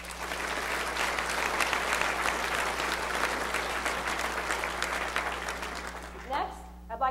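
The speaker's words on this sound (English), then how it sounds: "please join me in a big round of applause for our colleague" An audience at a spring convocation ceremony applauds a colleague with sustained, even clapping that fills the hall, fading as a voice begins speaking at the end.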